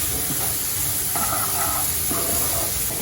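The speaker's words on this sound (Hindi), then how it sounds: "अब इन सारी चीज़ों को थोड़ा सा हम बस हल्का सा मसाला उसके साथ फ्राई कर लेते हैं।" Spices and chili flakes fry with masoor dal kachori filling in a pan, giving a constant close hiss and sizzle with soft stirring throughout.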